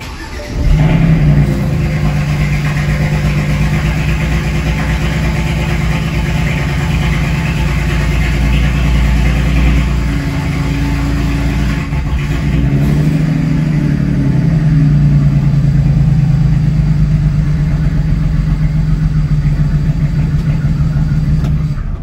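A BMW 335is runs for the first time after an engine swap, its engine settling into a steady, close idle with a low continuous hum and slight shifts in pitch, no voices.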